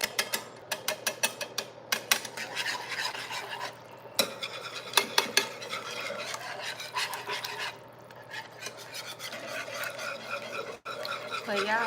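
Homemade gravy whisked in a pan, a whisk clicking and scraping rapidly against the metal in bursts with brief pauses, close and fairly quiet over a low steady hum.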